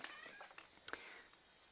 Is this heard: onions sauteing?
no